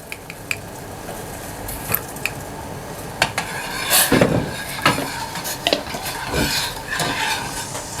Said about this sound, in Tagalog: I-dilute lang natin sa tubig yung cornstarch natin.